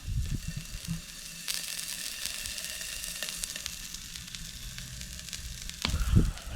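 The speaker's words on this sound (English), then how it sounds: "we've got 2 big fat steaks on a tiny grill over the fire" Two big fat steaks sizzle on a tiny grill set over an open fire, a steady close frying crackle with a few sharper pops and a brief louder burst near the end.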